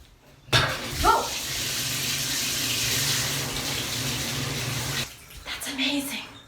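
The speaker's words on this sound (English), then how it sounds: "you have something that creates running water. That means water that flows freely" Water runs freely from a tap in a demonstration on grapes and winemaking at Nazareth, a steady rushing flow of about four and a half seconds that starts and stops abruptly, with brief voice sounds at the start and end.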